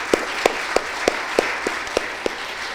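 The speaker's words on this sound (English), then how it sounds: "round of applause" A small audience gives a round of applause at a conference on human dignity: a few evenly spaced, distinct hand claps ring out clearly over a soft background of scattered clapping, lasting under three seconds.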